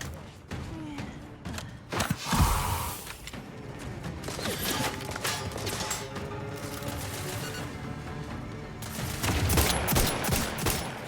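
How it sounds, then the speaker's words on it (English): Heavy gunfire and blasts ring out in The Outer Worlds during a firefight against a rocket-launcher-wielding enemy, a dense wash of shots and thuds going on throughout, fairly loud and close. "It's got a fucking rocket launcher or something."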